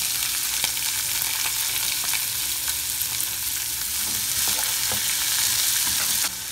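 A large onion fries with fish fillets in a pan, giving a loud, dense and continuous sizzle up close with faint stirring scrapes throughout.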